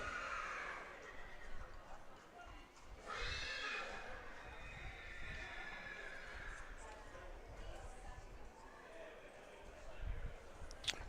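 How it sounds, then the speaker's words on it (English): A brown, near-black yearling colt of racy type whinnies at a yearling sale parade at Riverside Stables, Warwick Farm, with hooves clip-clopping and faint crowd murmur and voices around it throughout. "he's a real racy type, this horse"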